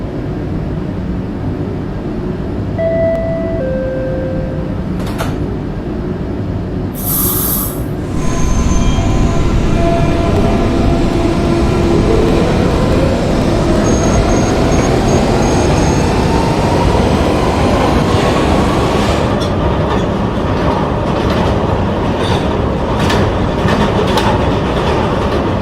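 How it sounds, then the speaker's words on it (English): A PST-2R light-rail B train pulls away from a station heard from inside, with brief chimes and door sounds at first, then rising motor whine and steady wheel rumble and clatter as it speeds up. "This is an Expo Center bound B train."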